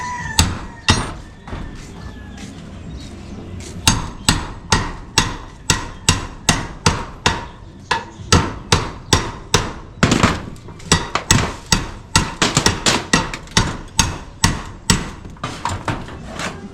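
A hammer strikes wood repeatedly at a house under repair, with sharp, loud, evenly paced blows that come in runs with short pauses between them.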